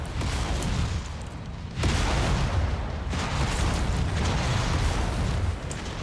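Explosions and heavy weapon fire in the MechWarrior 5 video game, a dense, continuous roar of booming blasts with a sharp surge near two seconds, loud and close.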